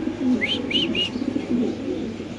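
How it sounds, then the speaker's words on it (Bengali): A pair of pigeons coo softly in a repeated rhythmic pattern close by, with a few rising chirpy notes, and no one speaks. "আমরা আরেক জোড়া কবুতর ইনশাল্লাহ দেখাচ্ছি আপনাদের"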